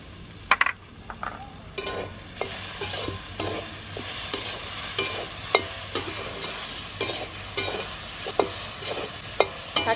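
Drumstick leaves stirred and frying in a pan with a little sugar added, a steady crackling sizzle under repeated sharp scrapes of a spoon against the pan, close and fairly loud throughout.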